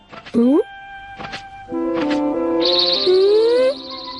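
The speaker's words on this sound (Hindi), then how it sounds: "अब तो चिड़ियों का चहचहाना भी अच्छी तरह सुनाई दे रहा है" Bright bird chirps and whistling calls ring out, some rising and sliding, over a steady tonal background.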